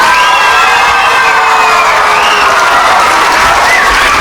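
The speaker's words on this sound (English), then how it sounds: "Give them a round of applause." A school audience of friends and family cheers, whoops and applauds for third grade performers at a morning show, a loud, continuous wash of crowd noise with children's shouts rising above it.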